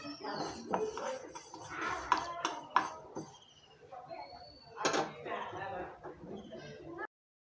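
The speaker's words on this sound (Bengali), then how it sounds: "এই তিসিগুলোকে মিনিমাম 3 থেকে 4 মিনিট ভেজে নেবেন। এভাবে নাড়াচাড়া করতে থাকবেন।" A spoon or spatula clinks and scrapes against a pan while flax seeds are stirred and dry-fried. The scattered, light knocks come close by, under a person talking.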